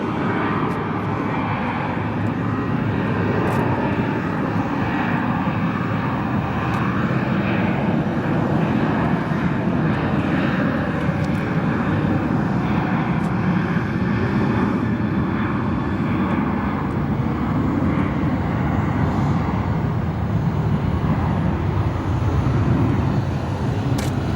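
A constant loud drone of airplane engines heard from inside the cabin, steady and unbroken throughout.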